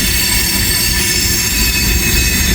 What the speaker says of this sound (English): looks like we got ourselves an ethanol train.